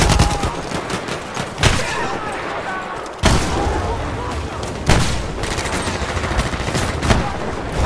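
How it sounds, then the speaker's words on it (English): Machine-gun fire in the World War I shooter Battlefield 1 on the Soissons map in Conquest mode: rapid, loud automatic bursts with several heavy impacts standing out, set in a dense battle din. "There's an enemy machine gun!"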